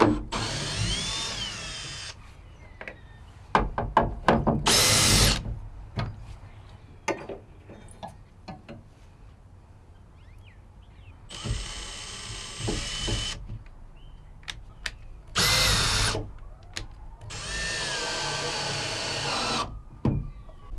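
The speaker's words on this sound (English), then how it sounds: "I gotta put the tamper-proof screw down here in the bottom" A power drill drives a tamper-proof screw into the bottom of a Ford tailgate: several loud, whirring bursts of a few seconds each, separated by short clicks and handling knocks at close range.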